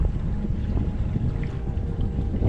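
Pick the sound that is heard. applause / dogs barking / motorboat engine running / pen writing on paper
motorboat engine running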